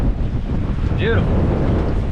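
Wind blows hard over open ocean as seen from a small fishing boat in choppy, whitecapping water, making a loud, steady roar of wind buffeting the microphone with a constant rush underneath.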